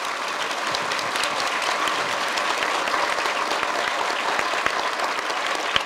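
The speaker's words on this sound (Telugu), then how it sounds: "ఒక్కసారి గట్టిగా అందరికీ మీ సార్లందరికీ గట్టిగా చప్పట్లు కొట్టండి" Government school students clap hard for their teachers in a dense, steady, loud round of applause that lasts the whole stretch without a pause.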